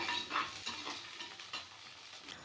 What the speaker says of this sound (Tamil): அப்புறம் இதெல்லாமே சேர்த்து நல்லாவே வதக்கிட்டு இருக்கணும்